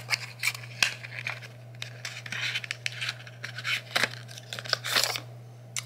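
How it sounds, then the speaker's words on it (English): An X-Acto knife slices and tears through packaging in quick, irregular scratchy strokes and crinkles, close up against a steady low hum. "using an X-Acto knife to open stuff"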